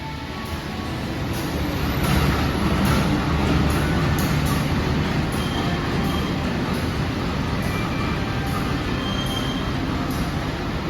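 Malioboro Express train rolling into a station, a steady loud rumble of rail cars with high metallic wheel squeal threaded through, swelling slightly after the first couple of seconds and holding close and continuous with no talk.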